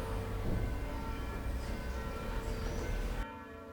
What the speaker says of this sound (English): I woke this morning to the sound of bells, and just have a listen to these